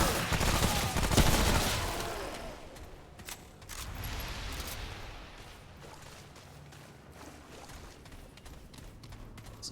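Weapon fire in the video game Remnant: From the Ashes, a dense burst of shots at the start, then scattered sharper reports and game noise fading to a quieter ambient background.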